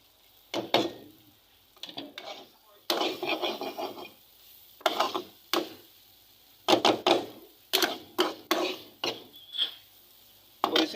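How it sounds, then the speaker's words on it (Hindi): A spoon scrapes in bursts across a pan as daal mash lentils fry with spices, dhaba style. The rhythmic rasping strokes are close and distinct, separated by short pauses. "तकरीबन 5 मिनट के लिए हमने यहाँ पे दाल को फ्राई करना है।"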